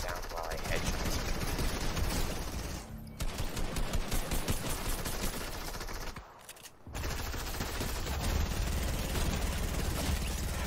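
Rapid bursts of automatic gunfire rattle through a Team Rumble video game match, with dense shooting broken by two short pauses while a player talks over the action.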